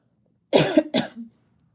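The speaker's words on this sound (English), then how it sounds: "I didn't even start coughing again until I came in here." Two sharp coughs in quick succession, close and fairly loud, followed by a short throaty trailing sound, then silence.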